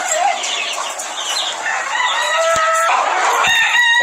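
Chickens cluck busily while a rooster crows loudly nearby, with overlapping calls from a flock of fowl being raised for sale, and no talking.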